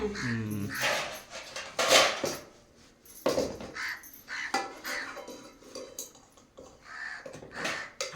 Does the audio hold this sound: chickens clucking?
no